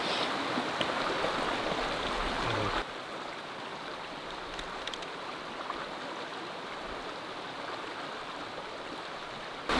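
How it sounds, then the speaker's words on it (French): A shower hose fills a basin with water, a continuous rushing stream that softens slightly after a few seconds, then runs steadily and close with no talking. "J'ai réussi à sortir ça et du coup remplir le bassine d'eau."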